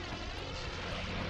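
An airplane careening out of control in the Spider-Man 2 video game, heard as a dense, continuous engine roar that stays loud and steady throughout, with no speech.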